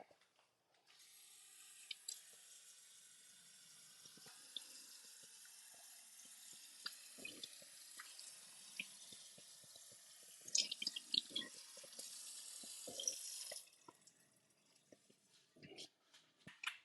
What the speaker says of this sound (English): gonna rinse these.